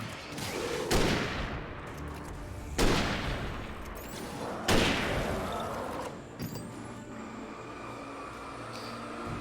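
Loud gunshots from a hunting rifle or handgun in the Alan Wake horror game, three heavy blasts spaced a couple of seconds apart, each ringing out with a long reverberant tail over a dark ambient background.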